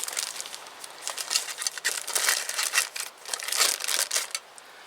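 A plastic bag holding a sooty canteen cup crinkles and rustles in irregular bursts, close and crisp, with steady handling noise and no voices.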